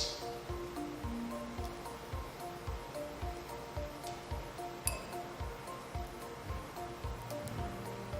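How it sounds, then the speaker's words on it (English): Mint leaves are muddled in a glass for a drink, giving a steady series of rhythmic thuds with light glassy clinks, close and fairly loud, with no talking. "in your glass, we are gonna obviously muddle up some"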